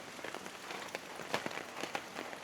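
Heavy typhoon rain pours onto a melon farm field, a dense, steady patter of countless drops with sharper splashes scattered throughout and no voices.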